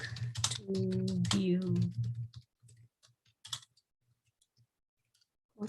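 Computer clicks while selecting a bookmark in Power BI, a scatter of light, sparse taps at first under a voice, then heard alone and quiet with longer gaps, ending in one more tap.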